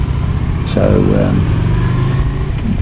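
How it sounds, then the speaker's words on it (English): Steady engine rumble of city street traffic on St George's Terrace in central Perth, Western Australia, running continuously beneath someone talking close by. "traffic's starting to pick up now here."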